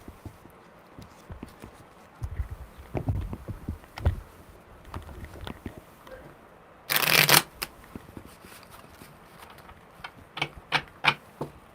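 Tarot cards are given a brisk shuffle, producing a sudden loud papery riffle burst partway through, surrounded by softer scattered taps and rustles of the deck being handled.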